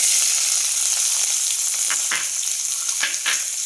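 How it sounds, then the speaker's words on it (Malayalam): Chopped onion and ginger sizzle in hot oil with popped mustard seeds, a steady close frying hiss with a few sharper crackles and spatters near the end. "ഇനി അതിലേക്ക് സവാളയും ഇഞ്ചിയും കൂടെ അരിഞ്ഞു വെച്ചതിടാം"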